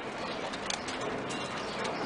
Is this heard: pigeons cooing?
yes